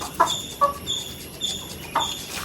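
Chickens cluck nearby in short, sharp bursts, with three or four quick calls spaced across a couple of seconds over a quiet background.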